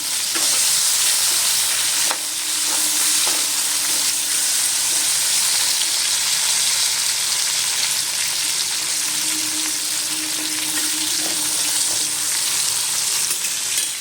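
Food sizzles and fries steadily in hot oil in a home kitchen, a loud continuous crackling hiss with a few light stirring knocks, no voices.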